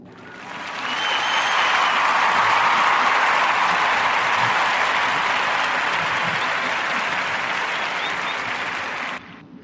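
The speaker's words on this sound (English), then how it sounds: "So we want to give a warm Narrative Podcast round of applause for the Black Paper Party and Ja'Aaron, Jasmine, and Medea." A podcast audience gives a warm round of applause, dense steady clapping that swells quickly, holds for about eight seconds and then cuts off.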